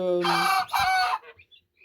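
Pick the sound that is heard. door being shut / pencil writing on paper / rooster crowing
rooster crowing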